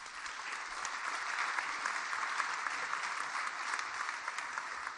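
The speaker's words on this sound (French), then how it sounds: "On peut l'applaudir." Conference audience at a roundtable on territorial innovation gives sustained, dense applause after a speaker finishes, steady and full across the whole stretch with no talk over it.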